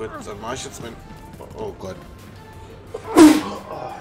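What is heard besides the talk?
sneeze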